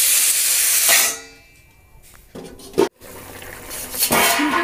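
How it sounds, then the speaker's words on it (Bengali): Water poured into a pot of frying cauliflower and potato curry brings a loud hiss and sizzle, then a quiet stretch with a brief clatter before the steamy hiss swells again. "এবার দেব জল।"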